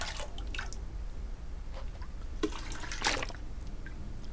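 Water drips and trickles in the survival video game The Long Dark as the player collects water from a toilet, with scattered small splashes over a constant low background hum and no talking.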